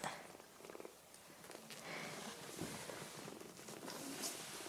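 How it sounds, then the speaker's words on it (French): A cat purrs softly and continuously up close, a quiet rhythmic rumble with faint rustling in the background. "Ça ronronne dur."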